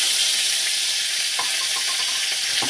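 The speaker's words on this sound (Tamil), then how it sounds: "சட்னி தாளிச்சாச்சு" Chutney tempering with curry leaves in hot oil sizzles steadily with a bright, hissing crackle, small pops rising now and then through the frying.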